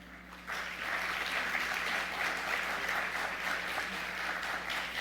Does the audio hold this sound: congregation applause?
yes